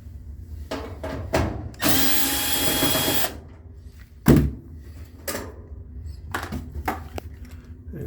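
A power driver whirs for about a second and a half while backing out screws from the front panel of a Maytag MDE6400AZW dryer. Close clunks and knocks of handling the metal panel come before and after, with no talking.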